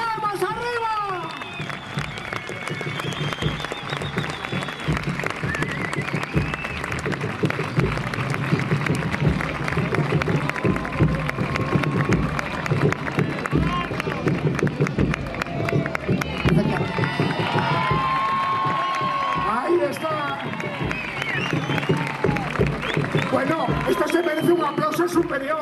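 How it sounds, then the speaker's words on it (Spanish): A crowd at a medieval joust in Hospital de Órbigo, León, claps steadily and cheers as the Puente de Órbigo banner enters the arena; the rhythmic clapping runs the whole time while an announcer talks over it. "os voy a pedir un aplauso total. El pendón de Puente de Órbigo. ¡Esas palmas arriba!"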